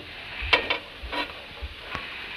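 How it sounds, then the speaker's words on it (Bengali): Bottle gourd pieces are stirred in a wok, with a faint sizzle beneath a few brief scraping strokes of a spatula and a light knock, close and quiet. "লাউগুলো কড়াইটার মধ্যে দিয়ে দেব, দিয়ে এটাকে একটু সময়ের জন্য সিদ্ধ হতে দেব"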